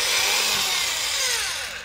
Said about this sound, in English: that wheel is gonna sand up and clean up the corroded areas